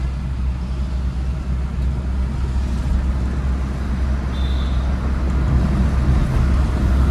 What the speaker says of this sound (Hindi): दोस्तों NH24 है ये और नेशनल हाईवे, इस पे गाड़ियाँ जो है बहुत फास्ट चलती हैं, बहुत बिजी रूट है।